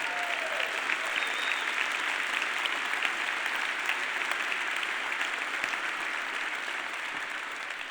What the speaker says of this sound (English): the applause I just heard